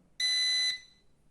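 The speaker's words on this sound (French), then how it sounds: "la radio va biper, l'hélicoptère aussi" A single sharp electronic beep from a radio-control transmitter for a model EC 145 helicopter rings out, steady and high-pitched for about half a second, then cuts off into quiet.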